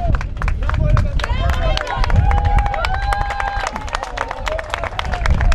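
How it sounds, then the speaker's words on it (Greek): Home-team supporters in the stands at a Greek cup football match clapping, sustained claps and crowd noise throughout, with a commentator talking over it. "Τώρα το γηπεδούχοι δέχονται και το χειροκρότημα της εξέδρας."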